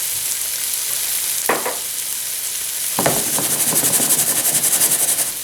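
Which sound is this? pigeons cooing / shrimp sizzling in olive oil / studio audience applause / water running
shrimp sizzling in olive oil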